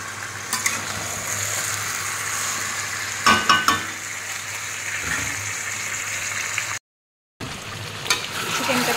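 Chicken meat being sautéed dry in a pan, a steady broad sizzle with a few sharp scraping stirs near the middle and a brief dropout toward the end.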